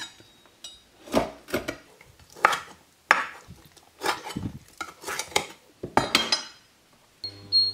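Chicken feet having their claws cut off give sharp, irregular chopping knocks, about a dozen close, crisp strikes on a hard surface, with faint metallic clinks between them and no talk.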